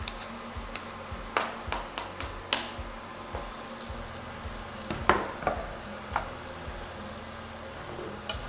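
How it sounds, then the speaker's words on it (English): Onions and garlic go into a pan of hot oil for a mushroom turkey spaghetti and crackle into a steady fry. Several sharp clicks and spatula scrapes sit on top of the sizzle, and no one speaks. "So we'll add our onions and garlic."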